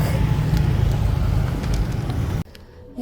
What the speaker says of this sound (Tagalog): And it's still traffic.